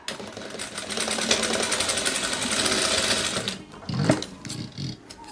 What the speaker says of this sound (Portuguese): Aqui é bem simples, ó, é só fazer mesmo uma costura reta